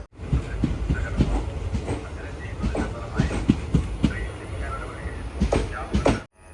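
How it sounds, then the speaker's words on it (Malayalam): Rhythmic clickety-clack of the KSR Bengaluru–Kannur Express rolling into platform 2 at Nileshwar railway station, moderately loud and steady, with faint voices in the background. "KSR Bengaluru city junction Kannur express ഇതാ നീലേശ്വരം റെയിൽവേ സ്റ്റേഷൻ 2ാം നമ്പർ പ്ലാറ്റ്ഫോമിലേക്ക് വരികയാണ്"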